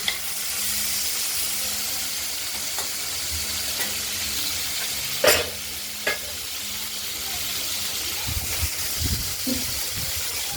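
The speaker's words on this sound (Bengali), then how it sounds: "কড়াইতে তেল আগে গরম হয়ে গেছিলো, আমরা ভেজে নিচ্ছি।" Shrimp, cleaned, deveined and rubbed with salt and turmeric, frying in hot oil in a wok, giving a steady close sizzle throughout with a few sharp clatters of stirring near the middle and end.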